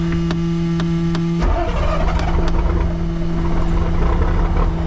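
A cabover truck's engine cranks and fires up on a cold day, with a steady idle hum before a sudden loud catch at about one and a half seconds, then a rough, rumbling idle that carries on to the end.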